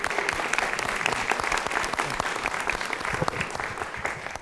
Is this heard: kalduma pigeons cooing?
no